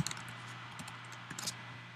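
Light typing on a computer keyboard, a few quick soft key clicks in short clusters, faint and close against a low steady hum.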